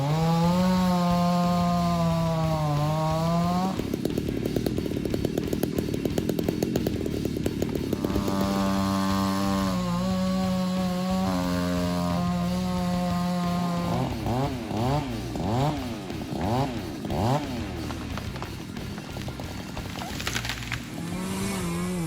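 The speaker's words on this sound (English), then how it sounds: "Thanks to the chainsaw's efficiency and power, he can work efficiently and quickly, cutting down trees" A chainsaw fells a large leafy tree in a sunny backyard, its engine loud and continuous, rising and falling in pitch as it revs and bites into the wood, then settling into steady cutting passes.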